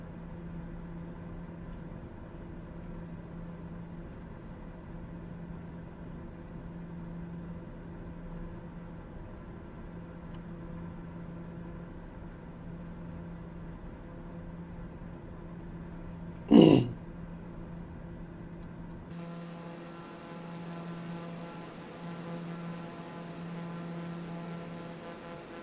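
Aircraft engines in a flight simulator video game hum steadily after the throttles are pulled down, a low droning tone throughout with one brief sharp click midway and a change in texture near the end.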